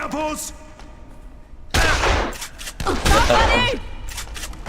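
Rifle gunfire in the zombie video game Dead Island comes as two loud, dense bursts of shots, with someone talking over the game audio between them.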